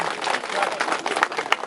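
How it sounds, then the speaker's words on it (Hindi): An audience claps at a village employees' gathering in Malau. The applause is a brief burst of dense, irregular clapping with a voice partly over it. "तो जोरदार तालियां बजाइए"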